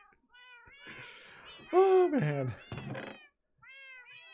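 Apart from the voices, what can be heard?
cats meowing in a video game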